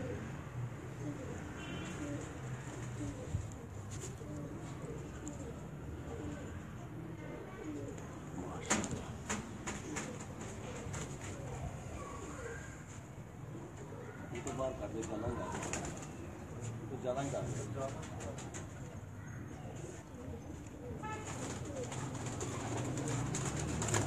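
Pigeons on a rooftop in Rawalpindi cooing softly in a low, rolling murmur, with occasional rustling and wing flutters and a faint voice in the background.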